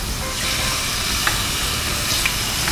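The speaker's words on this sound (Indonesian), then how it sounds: "tanda bahwa wajannya sudah panas adalah pas ayamnya dimasukin tuh ada bunyi gitu" Chicken breast marinated with garlic and paprika powder sizzles steadily in a hot wok, a continuous close frying hiss with a few brief crackles and pops, no talking.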